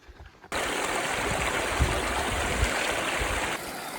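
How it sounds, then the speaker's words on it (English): A mountain stream on the Pacific Crest Trail in the Sierra Nevada runs high enough to flood the path, giving a steady, loud, close rush of water that starts suddenly and continues without pause. "water source flowing well. So well that it's completely flooded the trail"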